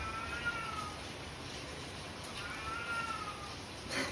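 A cat meows loudly nearby in two drawn-out calls, the first early and the second past the middle, over a steady background hiss with no talk.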